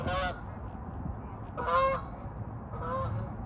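Several geese honk as they fly over a duck pond, three separate bursts of loud calls spread across a few seconds above a steady outdoor background.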